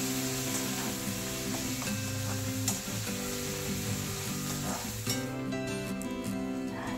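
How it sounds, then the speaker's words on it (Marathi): Chopped onion frying in oil for aloo matar pulao gives a steady, even sizzle that runs unbroken throughout, with a low humming tone sitting beneath it. "कांदा छान आपल्याला तेलामध्ये परतून घ्यायचा आहे।"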